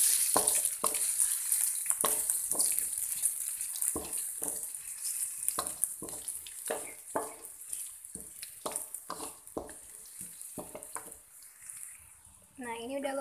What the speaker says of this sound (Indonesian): Setelah itu kita masukin sosis sama otak-otaknya.